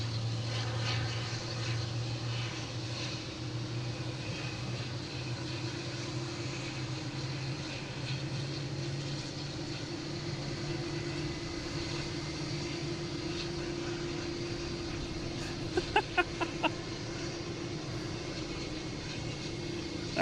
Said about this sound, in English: That sounds like the A380 is going to be lining up on 15.